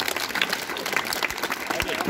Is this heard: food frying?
no